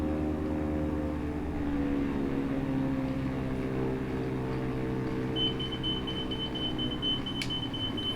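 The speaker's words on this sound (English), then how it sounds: "I'm not sure what that alarm is for." Single high electronic cockpit alarm tone in Microsoft Flight Simulator, sounding steadily for a few seconds over a constant low engine hum while taxiing to parking at Atlantis, Bahamas.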